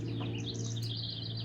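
Several birds chirp and tweet in a steady stream of short, bright calls, carrying over a constant low hum throughout.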